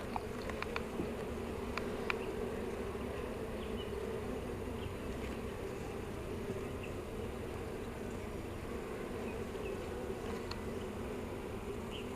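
Honeybees buzz around an open hive during a split, a steady close hum of many wings with a few passing individual bees and faint knocks, no voices.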